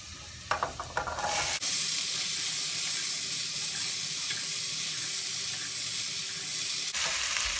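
Loud, steady sizzle of food frying in a pan before chickpeas are added, following a few brief clinks and stirring noises at the start, continuing evenly until a short break near the end.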